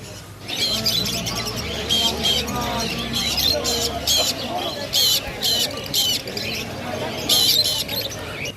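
Caged exotic birds at a Kolkata bird market chirp and tweet in a busy chorus of sharp high calls with repeated bursts, with a low hum at first and faint talk in the background.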